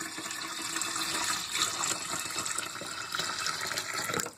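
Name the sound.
pouring sugar water into a bowl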